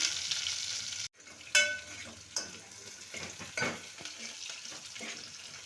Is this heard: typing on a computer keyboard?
no